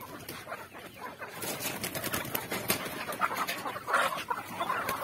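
Native chickens cluck and murmur together at feeding time, a busy flock sound with scattered bird calls at moderate volume and faint rustling around them.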